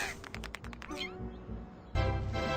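A cat meows in a video game, a few short mewing calls set against a busy game soundtrack and effects, fairly quiet overall, with no one talking.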